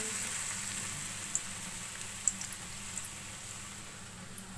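Ajwain leaves coated in bajji batter fry in hot oil with a steady, soft sizzle, broken by a few faint pops and crackles, and no voices.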